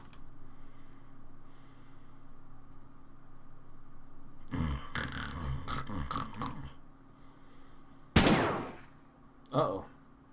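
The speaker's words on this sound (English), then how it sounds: "Was that a gunshot?" Gunshot in a murder mystery video game, a single sharp loud crack late in the clip, followed by a shorter burst, after a stretch of rattling game sounds.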